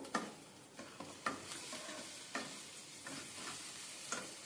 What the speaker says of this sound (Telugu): దీన్ని ఇప్పుడు బాగా మిక్స్ చేసుకోవాలి చికెన్కి పట్టేలా